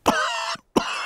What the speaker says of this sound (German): Dr. Braunbär hat sich mit Pedros Husten angesteckt